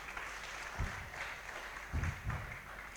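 A church congregation claps in short uneven bursts, faint and distant, with a low murmur of voices beneath.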